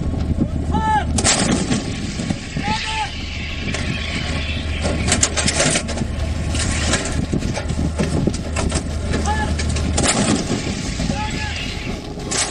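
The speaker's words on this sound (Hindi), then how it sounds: "ये 155 मिलीमीटर की हॉविट्जर है। 38 किलोमीटर दूर से दुश्मन की धज्जियां उड़ा सकती है।" A Dhanush 155 mm howitzer fires in sharp, booming reports, loud and close, with continuous rumbling noise and mechanical clatter between shots.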